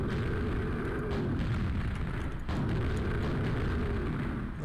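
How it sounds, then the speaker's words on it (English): A sustained roaring explosion in the Quake capture-the-flag game, dense and loud throughout with a heavy low rumble and a brief dip midway, no voices. "Let it open when I explode it"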